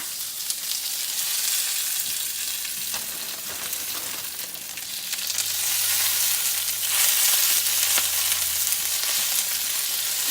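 Spinach frying in a hot pan and being stirred around, a steady broadband sizzle with occasional soft scraping, growing louder partway through as more leaves go in.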